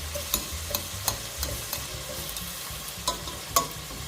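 Food sizzling steadily in a pan, with a soft continuous crackle and occasional clicks and taps from stirring.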